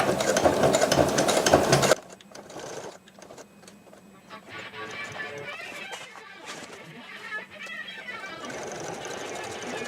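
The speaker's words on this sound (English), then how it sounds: "don't forget to backstitch at the beginning again" Sewing machine backstitching fabric for ice house wheel skirts, a dense, loud mechanical whir for about two seconds, then quieter handling and faint machine noise.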